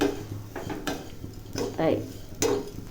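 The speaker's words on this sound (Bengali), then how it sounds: "মেয়েকে একটু চিড়ে ভেজে দিচ্ছি।" Flattened rice (chira) fried in a pan: a spatula scrapes and clinks against the metal in a few uneven strokes over a light sizzle, close and fairly quiet.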